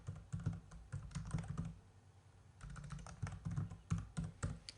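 Rapid keystrokes on a computer keyboard in bursts of typing, close and fairly clear, with a brief pause in the middle before clicking and typing resume.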